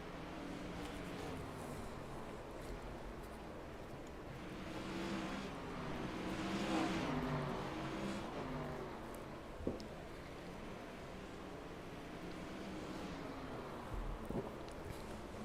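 Race cars in an ARX heat race at Slinger, a continuous engine roar from a pack of cars circling the track, swelling as they pass near around the middle and then holding a steady drone with a few sharp knocks.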